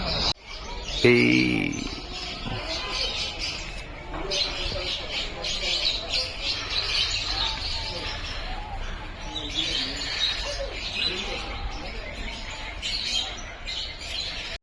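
Birds calling and chirping at Darjeeling, near a colourful red, blue and yellow bird, with a steady busy background of outdoor chatter and ambient noise running throughout.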